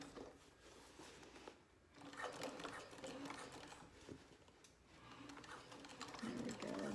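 A sewing machine stitches over the seam of a drop-in lining, its motor running in a steady mechanical whir that fades briefly around the two-second mark before continuing at a moderate level.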